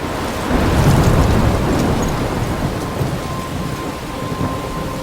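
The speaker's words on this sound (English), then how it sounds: "I'm trapped in a storm?" Thunderstorm in the video game Life is Strange near a lighthouse, with a loud rolling thunder rumble swelling early and slowly fading over continuous heavy rain, no voices.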